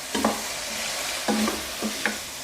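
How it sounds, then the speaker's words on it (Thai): Pork belly stir-roasted in a pan without oil, several distinct scraping stirs spaced about a second apart over a soft steady sizzle, close and clear with no voices. "คั่วในกระทะแบบนี้ไปเรื่อยๆนะให้สีเข้มขึ้นมา"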